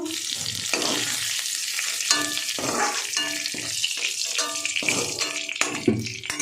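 Steady, close frying sizzle of jackfruit in crackling oil, broken by repeated clinks and scraping of a utensil stirring in the pan; no voices.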